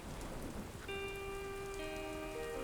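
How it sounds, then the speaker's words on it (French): Soft, constant rain hiss with a few sustained electronic tones sounding over it, fairly quiet throughout. "quand il pleut comme ça"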